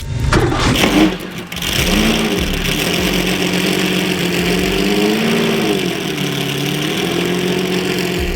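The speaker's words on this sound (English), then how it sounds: "The roar of the 917K's flat 12 engine as it springs to life is enough to send chills down your spine." A Porsche 917K racing car's flat-12 engine fires up with a sharp burst, then settles into a loud, rough idle with rising and falling revs.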